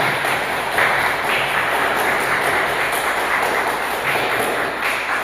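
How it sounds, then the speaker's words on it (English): Applause for a panel at a political public consultation meeting: a sustained, even wash of many hands clapping in a hall, moderately loud and steady throughout, with a faint high ringing tone underneath. "Let us give our panel a very warm round of applause"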